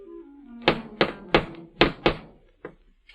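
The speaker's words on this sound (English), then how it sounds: "and raps smartly on the door." Knocking on a door in an old radio drama: five sharp, evenly spaced raps and then a lighter sixth, close and crisp, with faint background sound between the knocks.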